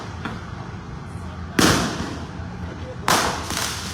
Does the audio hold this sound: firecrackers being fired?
yes